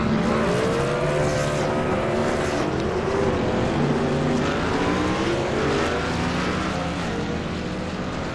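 Race cars pull off pit road in a dense, continuous engine roar, with overlapping engines rising and falling in pitch through steady revving, loud and sustained with no voices.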